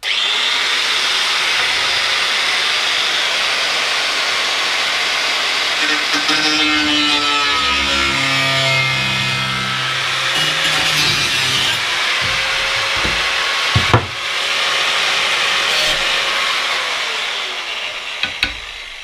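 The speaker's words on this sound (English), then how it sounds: "Nice thin cut-off wheel, 1 millimetre, and just be very patient." A thin 1 mm cut-off wheel on a grinder cuts through the metal front fender of a Yamaha XS1100 cafe racer project bike, producing a loud, continuous high-pitched grinding whine that shifts in pitch as it bites, with a brief sharp knock near the end.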